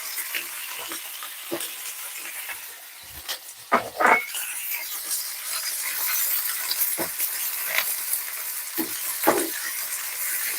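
Mint leaves and coconut slices frying in a pan over a low flame, giving a steady soft sizzle with occasional stirring scrapes and clinks, close and alone.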